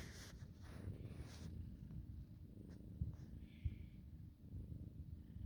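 A cat purrs close to the microphone, a low continuous rumbling vibration with a few soft bumps and rustles.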